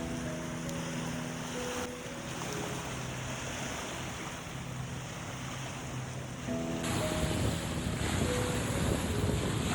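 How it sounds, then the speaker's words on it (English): Waves lap steadily at Lake Manawa beach in Iowa on a summer day, a close, continuous wash of water mixed with wind buffeting the microphone and faint tonal sounds in the background. "I just loved sitting there beside the waves. The sound of the water was so soothing."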